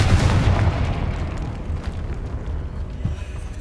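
A Confringo explosion spell cast in the Hogwarts Legacy video game, heard as a loud, continuous rumbling blast that booms at the start and then sustains a dense low roar with a small burst near the end.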